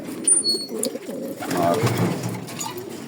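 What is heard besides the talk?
pigeons cooing and flapping in a loft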